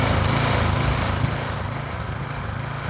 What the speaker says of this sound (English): It hasn't bogged down on me once since I was mowing.